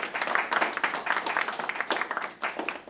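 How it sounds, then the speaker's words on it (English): An audience at a Kupu Corps launch event in Saipan claps in a short, lively burst of applause, with many hands beating irregularly at close range and faint voices mixed in. "Round of applause one more time for Anania,"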